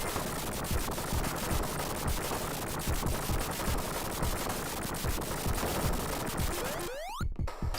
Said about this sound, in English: And Knuckles is bombing me.